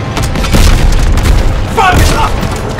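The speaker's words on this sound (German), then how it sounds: "Voll getroffen! Panzer zerstört!" A tank explodes in the World War II shooter game Call of Duty WWII, with heavy booming blasts and rumbling gunfire throughout, overlaid by game voices shouting.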